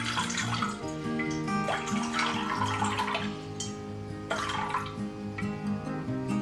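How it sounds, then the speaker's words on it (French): Water pours steadily into a bowl set on a kitchen scale, measuring 180 g for homemade sandwich bread dough, a continuous close splashing stream with no talking. "Donc 180 g d'eau, donc ce que je fais c'est que je vais peser directement ici avec la balance."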